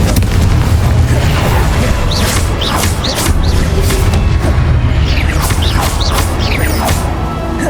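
Repeated Confringo blast explosions in the Hogwarts Legacy video game, loud rolling booms and crashing bursts with whooshing spell streaks, a relentless, heavy barrage from start to finish.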